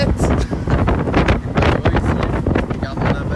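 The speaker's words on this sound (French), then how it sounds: "il y a beaucoup de vent" Strong wind buffeting a microphone outdoors near boats in Thailand, a loud continuous rumbling roar that rises and falls in gusts, with voices talking underneath.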